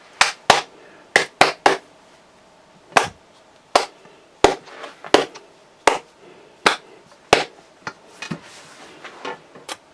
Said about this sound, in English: then clap and let's see if he works